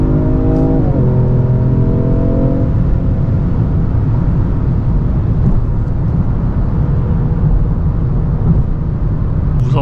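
A synthetic engine tone from the sound generator of a Genesis G70 3.3T facelift rises in rising harmonic steps as the car accelerates, loud over a steady low road rumble inside the cabin.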